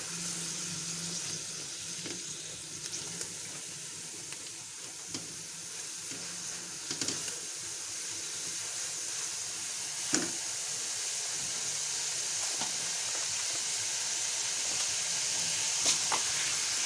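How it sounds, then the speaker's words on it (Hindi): A soy sauce and chilli sauce mixture sizzles steadily in a hot pan while being stirred, a continuous close hiss with occasional faint scrapes and clicks of the spoon, no talking. "मिक्स करेंगे इसको।"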